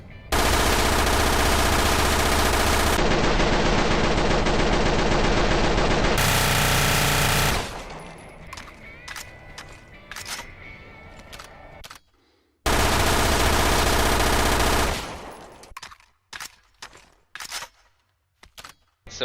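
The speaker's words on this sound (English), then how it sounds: "let's test the machine pistol accurate fire out" A Yamaha motorcycle revs hard and close, its strong engine note dipping briefly for a quick gear change before pulling again.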